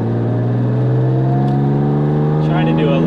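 Jaguar E-Type Coupe engine pulling steadily at moderate speed on backroads, a loud continuous drone with clear rising harmonic tones as it revs, close and constant, with someone speaking over it.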